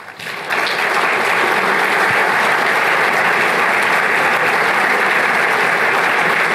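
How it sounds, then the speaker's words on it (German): Sustained audience applause at a DFG ceremonial event in 2016, rising quickly after a brief quiet start and holding dense and loud throughout, with no speech over it. "Applaus"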